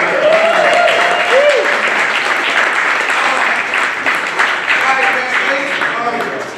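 Comedy club crowd applauding at a stand-up night, a loud, continuous wash of clapping with cheering voices and a few whoops rising over it, tapering slightly toward the end.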